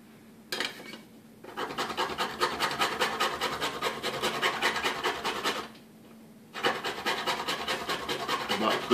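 A stick of chalk pastel is grated on a metal grater for weathering models, two runs of fast rhythmic rasping strokes separated by a short pause, close and fairly loud.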